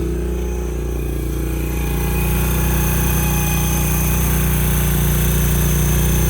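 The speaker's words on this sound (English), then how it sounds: "The engine sounds really quiet here." A Honda XR70 with a BBR 88cc big bore kit runs close by, a steady, even engine drone that swells slightly in loudness partway through, with no talk.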